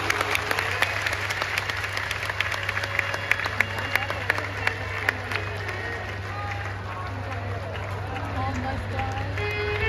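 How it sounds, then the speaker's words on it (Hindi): A large audience at a Shiv Mahapuran religious discourse claps loudly and continuously. Dense, crackling applause fills the space while a voice carries on over the crowd. "एक बार जोरदार ताली बजाओ।"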